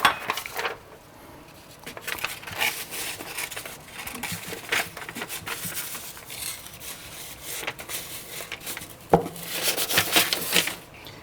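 A bowl of almonds being handled in a kitchen, with scattered clinks, rattles and knocks from the nuts and dish at close range, coming in irregular bursts.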